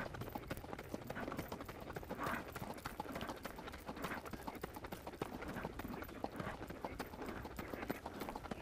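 A horse trots with a steady, even rhythm in a riding arena, the hoofbeats faint and regular against a quiet background.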